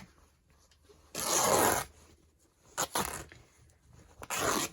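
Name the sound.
tearing a large piece of calico fabric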